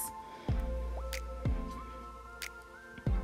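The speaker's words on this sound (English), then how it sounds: "So add the coconut milk to the porridge and stir it up." Thick cornmeal porridge being stirred with coconut milk, giving three soft, wet plopping thuds about a second apart over a low steady cooking rumble.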